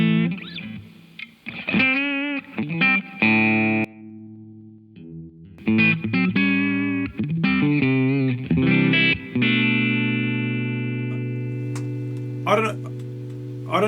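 An electric guitar played through a Line 6 AM-4 modeler set to a Fender Twin Reverb amp model: bright strummed chords and single-note phrases broken by short pauses, ending in a long sustained ringing chord.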